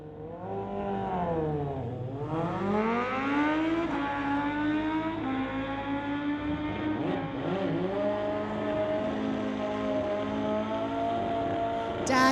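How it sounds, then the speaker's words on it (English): Motorcycle drag race between a green Kawasaki and a Suzuki: loud, continuous engine howl with rising pitch sweeps as the bikes accelerate and shift through gears, steady and close throughout. "We've got Dad on the green bike on the Kawasaki, and we've got Chris on the Suzuki."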